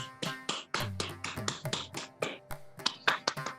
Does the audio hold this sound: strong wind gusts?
no